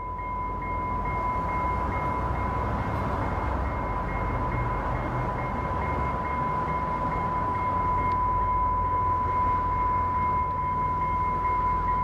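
A passenger train pulls into a yard in Albuquerque, New Mexico, a steady rumble with a constant high-pitched bell drone, holding evenly throughout without voices.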